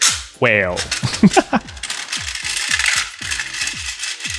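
Plastic puzzle pieces from a Smart Games IQ Series set tumble out of their box in a rapid run of light clattering clicks and rattles, close by, after a brief spoken word.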